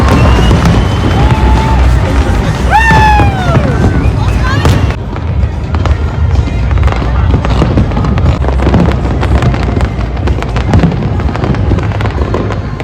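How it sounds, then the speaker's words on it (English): New Year fireworks go off loudly nearby, with whistling rockets rising and a dense run of bangs and crackles, while people talk and call out over them. "We're going to watch the fireworks and I'm excited."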